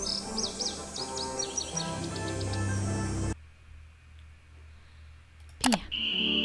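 Birds chirp and tweet in the Ghost Dogs of Moon Lake video game, quick bright calls over music that suddenly stops, followed by a quieter stretch, a sharp click and more high calls.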